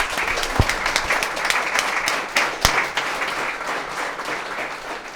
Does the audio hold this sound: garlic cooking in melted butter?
no